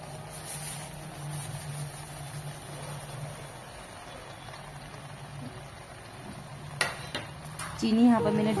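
A spoon scrapes and stirs carrot halwa with added sugar in a cooking pan, soft and steady at first and then clinking more sharply toward the end, with a voice talking over it.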